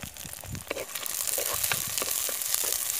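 Fresh green peas and onions sautéing in oil, a close, moderate sizzle broken by scraping and stirring clicks throughout.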